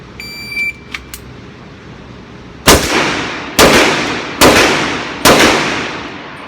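Four loud pistol shots from a Sig Sauer .357 at an indoor shooting range ring out in an evenly spaced string, each a sharp crack with a short echoing tail, after a few faint clicks.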